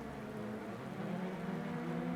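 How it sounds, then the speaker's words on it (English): Heavy rain in DiRT Rally 2.0 during a rallycross event at Killarney, a dense steady hiss with a low engine-like rumble beneath, continuous and even throughout. "Especially in this heavy rain"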